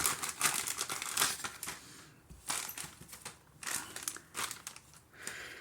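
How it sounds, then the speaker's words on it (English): Crinkly plastic rustling in short bursts and pauses, close up, as a plastic bag is pulled open. "Go ahead and open up the plastic bag here."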